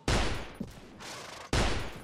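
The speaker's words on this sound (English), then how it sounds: "Why are the pistol shots like fucking miniature grenades?" Pistol shots in the Full Invasion 2 mod, two loud booming reports about a second and a half apart, each with a heavy, grenade-like blast and a long decaying tail.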